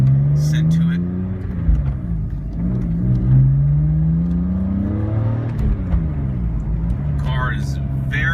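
BMW E46 M3 with wide rear wheels, new tires and coilovers accelerating hard through the gears, its engine note steadily rising and falling near and loud beneath continuous talking.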